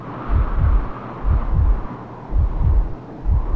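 A heartbeat pounds in the video game Miasmata as low, heavy double thumps in a steady rhythm, repeating about once a second over a faint windy hum.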